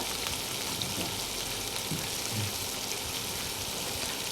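Chopped onions frying in a pan for a Manchurian and egg noodle dish, making a constant, even sizzle throughout.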